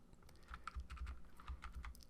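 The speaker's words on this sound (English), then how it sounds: "using the cursor keys on my keyboard, I'm just going to pull that down a little bit" Cursor keys on a computer keyboard are tapped in a quick, irregular series of soft clicks, faint and close in an otherwise quiet room.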